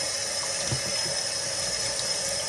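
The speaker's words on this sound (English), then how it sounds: "So I keep dumping this water out so I can keep rinsing her and watching until that water is clear." Steady running water from a sink tap while a wig is rinsed clean, a continuous close hiss and splash with no talking.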